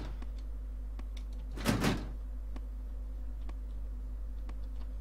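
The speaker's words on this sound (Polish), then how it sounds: "Drzwi sobie zamknę." A door closing in the video game 7 Days to Die, one short sliding rush and thud over a steady low hum, with faint clicks scattered before and after.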